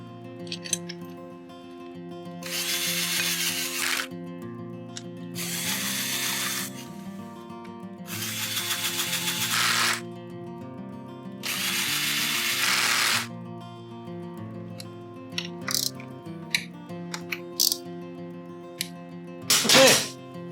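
Power drill driving a couple of screws into a motorcycle battery box, four whirring bursts of a few seconds each, close and fairly loud over steady background music, followed by a few short clicks and a brief final burst.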